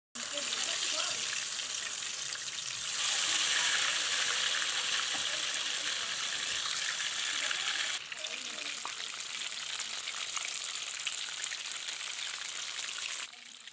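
Tilapia fish frying in a pan of deep hot oil: a loud, steady, dense sizzle with crackling that swells briefly near the start and then holds until the end.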